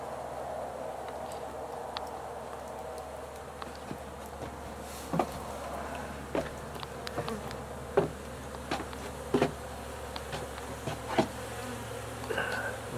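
Russian honey bees buzz in a steady, dense drone that continues throughout, with occasional soft knocks and clicks rising briefly above the hum. No one speaks.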